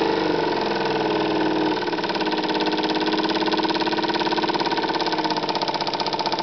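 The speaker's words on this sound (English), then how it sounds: "this is a Jenson steam engine." A Jenson Model 75 steam engine runs steadily and fairly loudly nearby, with a fast, even mechanical chuffing that settles into a regular rhythm after a slight shift early on. Nobody speaks.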